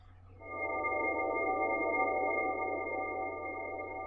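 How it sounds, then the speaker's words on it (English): A sustained saw wave synth drone with bright, buzzy harmonics holds steady, washed in long reverb at 100% mix, fairly quiet. "we get this nice atonal texture"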